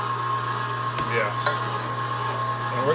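A 1.5 horsepower Weston electric meat grinder works through frozen meat, a loud continuous motor hum with a steady tone and occasional grinding clunks as tougher pieces feed through.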